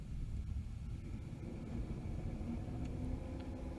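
An El Camino drag car sits in the right lane at a drag-and-drive event, a faint, steady low engine rumble heard from a distance with wind in the background.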